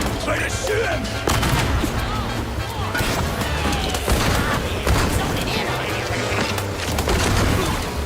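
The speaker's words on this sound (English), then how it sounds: "I'm shooting at them from 3 feet away!" Rapid gunfire crackles through a game of Mouse: P.I. for Hire, dense loud bursts and impacts layered over a busy, constant mix with a voice talking over the action.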